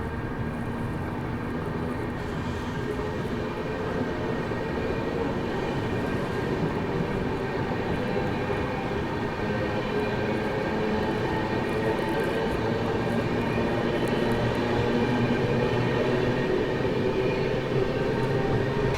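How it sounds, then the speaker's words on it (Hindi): A West Bengal Sampark Kranti Express (12329) train running at speed, with a steady, loud rumble and clatter of wheels on rails that continues unbroken throughout, with no voices. "चलिए निकल चुकी अपनी वेस्ट बंगाल संपर्क क्रांति पारसनाथ से।"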